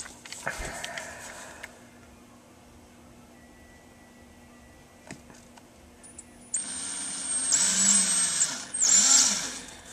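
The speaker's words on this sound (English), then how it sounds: "now we got to do is try to drill this thing straight" A power drill whirs up in two sustained bursts, high-pitched and fairly close, drilling a hole in a lamp, after a quieter stretch of faint clicks and room noise.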